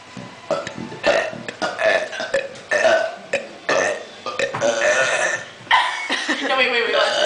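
A long, drawn-out burp rumbles through a burping contest, rising and falling in a continuous guttural stretch as people talk over and around it.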